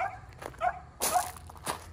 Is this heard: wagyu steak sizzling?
no